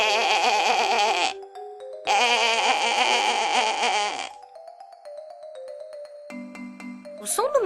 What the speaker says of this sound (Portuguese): o berro de uma ovelha